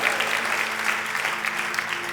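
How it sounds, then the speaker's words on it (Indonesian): Church congregation applauding with steady, dense clapping throughout, moderately loud and fairly close, with a faint sustained tone underneath. "tepuk tangannya with passion buat Tuhan kita"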